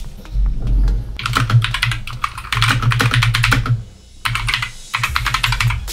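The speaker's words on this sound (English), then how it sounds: "now I got it plugged in and we'll see how this types" Typing on an HK GK61 keyboard comes through as fast, close bursts of clicky keystrokes with short pauses between runs, loud and clear with no talk.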